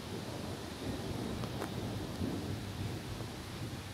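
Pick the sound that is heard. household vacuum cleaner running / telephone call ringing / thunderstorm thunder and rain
thunderstorm thunder and rain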